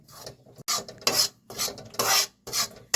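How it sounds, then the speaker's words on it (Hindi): Wheat flour (atta) being stirred as it roasts in a pan over low heat: rough, raspy scraping strokes in a steady rhythm of about six passes, close and dry, with no speech. "इसी तरीके से हम धीमी आंच करके और थोड़ा थोड़ा आटा करके भूंजाई करेंगे आटा की"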